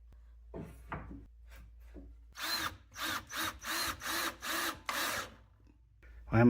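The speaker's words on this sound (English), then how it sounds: "Why am I struggling to drill some holes?" A power drill boring holes into wood in a hot garage workshop, several short bursts of whirring revving in quick succession, close and loud, with brief pauses between each hole.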